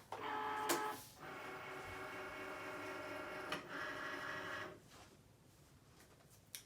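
A Cricut cutting machine, used for making a T-shirt, draws in its cutting mat with a steady mechanical whir and motor hum, framed by sharp clicks at the start and end, then quiets.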